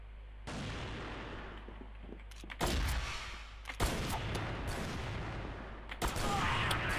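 Gunfire rings out in the first-person shooter CrossFire, with sharp shots and rapid bursts starting and stopping several times over a low background rumble, loud and close, with no talking.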